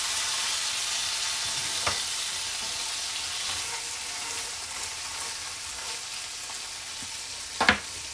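Meatloaf slices with a little gravy frying in a pan after a flip, a steady close hiss of sizzling with a couple of brief sharp scrapes of a utensil against the pan, no talking.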